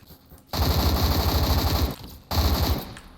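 Roblox gun fitted with a folding grip and compensator firing rapid automatic shots in two loud, sustained bursts separated by a brief pause, with no talking.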